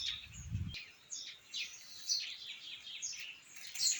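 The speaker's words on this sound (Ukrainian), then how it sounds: "І дуже гарно співають пташки." Several birds chirp and sing in short, high bursts over a quiet outdoor background, fairly distant and soft, after a brief low thump at the start.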